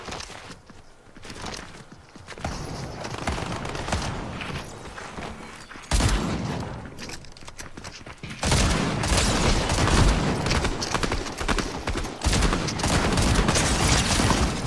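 Rapid bursts of gunfire in Fortnite run through a dense, continuous barrage that swells louder midway, heavy shots layered with footsteps and booms, no voices.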